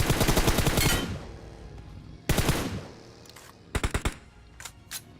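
Gunfire in the shooter game BGMI: a long automatic burst, then another burst, followed by shorter rapid volleys and a few single shots, loud and close.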